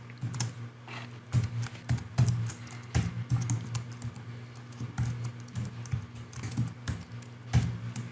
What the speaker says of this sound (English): I'm going to open this in Text Wrangler, and I'm going to type a very simple expression